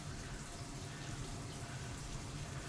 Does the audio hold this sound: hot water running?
yes